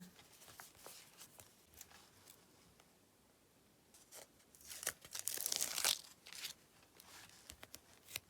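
Soft crinkling of plastic, then a louder sharp tearing as a small paper-surprise packet holding a phone case is ripped open, close and brief.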